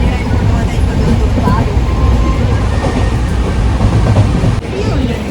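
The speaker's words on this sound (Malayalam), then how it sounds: "ട്രെയിൻ ഇവിടുന്ന് എടുത്തിട്ടുണ്ടേ" Steady low rumble and rattle of a moving train in India, bound for Delhi, continuous and fairly loud throughout, with faint background voices.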